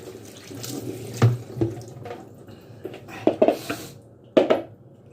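Hot water runs from a tap with splashing and a few sharp clinks of items being rinsed in a sink, close and intermittent.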